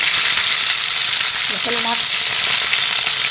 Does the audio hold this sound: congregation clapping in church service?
no